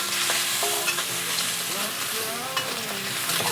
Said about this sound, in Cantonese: 將啲薑葱蒜辣椒放入去，個香氣一出啦，就即時倒入啲花甲就得㗎啦